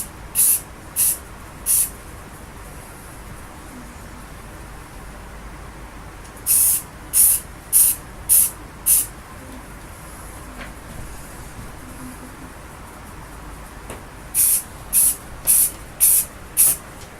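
Short, sharp hisses of Rust-Oleum satin green spray paint on a Mossberg Maverick Hunter shotgun come in quick clusters of three to five bursts, close and loud, separated by quieter stretches.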